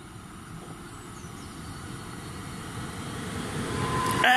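A Regio passenger train bound for Szczecin Główny rolls into a Polish station with a steady, building rumble that grows louder toward the end, where a thin high squeal rises briefly.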